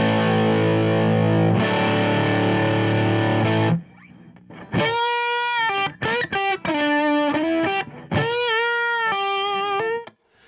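A PRS 25th Anniversary 50-watt HX/DA head on its DA distortion channel with an electric guitar: a long sustained distorted chord rings out, then a series of saturated single-note lead phrases with bends and brief pauses, loud and close.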